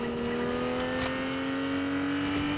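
Car engine in a video game, a steady revving drone with a rising pitch as the car accelerates, loud and continuous with no voices.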